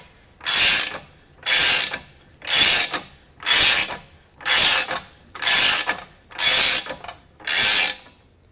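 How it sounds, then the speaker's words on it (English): A jacking screw is cranked in eight evenly spaced ratcheting bursts, each a loud, close metallic rasp followed by a short pause, as it is tightened to draw a seal out of a Toro unit; no one speaks. "pull the seal out by tightening the jacking screw"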